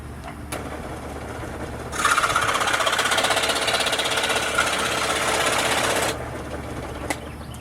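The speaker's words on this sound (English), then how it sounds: "I'm going to trim it right here and be right back to the camera." A homemade four-hole Native American flute has its end trimmed with a steady, loud, continuous rasping cut lasting about four seconds, starting and stopping abruptly against a quiet room hum.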